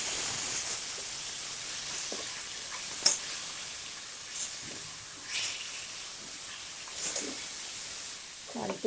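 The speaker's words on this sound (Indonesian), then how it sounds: "di sini udang, cumi dan ayamnya akan saya tumis" Shrimp, squid and chicken stir-fry in a pan with a steady hiss and sizzle, broken by a few sharp clanks of utensils against the pan, heard close up throughout.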